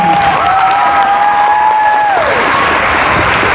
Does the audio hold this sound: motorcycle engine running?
no